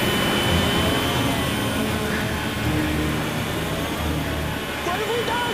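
Inside an aircraft cockpit, an overspeeding propeller engine produces a steady, dense, loud roar that continues without a break, with no talking.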